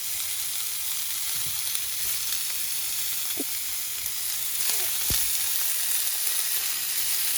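Onion, carrot and mixed English vegetables fry in hot oil in a pan, giving a steady, close sizzle throughout with a few faint utensil clicks and scrapes as they cook.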